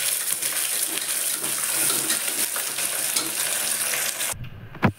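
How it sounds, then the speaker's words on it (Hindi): Chopped onions fry in a pan on medium flame, a loud, steady close sizzle with small crackles and stirring scrapes, no talk, ending abruptly with a brief clunk. "और इसको सुनहरा होने तक भूनेंगे।"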